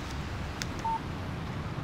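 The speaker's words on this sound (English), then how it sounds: "Text message from Barry." A phone text message alert in the Alan Wake video game: one short, clear electronic beep over a low, steady background rumble.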